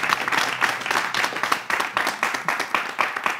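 A live audience at a French-language broadcast show applauds in quick, rhythmic bursts of many hands, loud and close, the claps pulsing steadily for several seconds with no voice over them.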